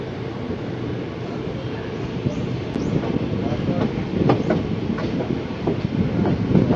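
A passenger train pulls out of Chandil station on the Howrah–Tatanagar line, a steady loud rumble of wheels on rails building with faint rhythmic clatter, heard from inside the carriage.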